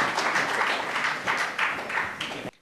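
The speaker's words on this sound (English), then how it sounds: "Can we have a round of applause," Audience applause at an annual oration ceremony in a Chennai hotel hall, a steady wash of many hands clapping at moderate distance that swells slightly before cutting off abruptly.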